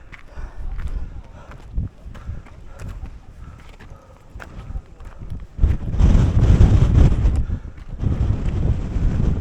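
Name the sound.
strong wind on a mountain summit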